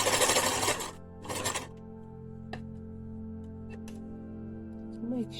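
A sewing machine stitches a pleated fabric face mask, its steady motor whir running close and even with a brief louder start and restart at the beginning, then a few faint clicks and rustles.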